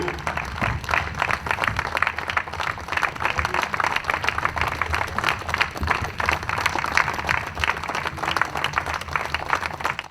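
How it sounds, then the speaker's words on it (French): A crowd applauds at a Défi Congo party political meeting with loud, steady clapping in a strong rhythmic pulse that holds for about ten seconds. "applaudissons pour Papa Diangenda, le président fondateur du parti Défi Congo."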